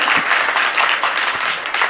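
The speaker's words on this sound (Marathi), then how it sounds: "एकदा जोरदार टाळ्या आहे महिला मंडळींसाठी" Loud, dense applause from a crowd at a community gathering, honouring the women's group; a steady wash of many hands clapping that fills the whole short stretch without pause.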